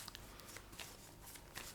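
Tarot cards being shuffled by hand, a brief soft riffle of card flutters and papery slaps, close but very quiet.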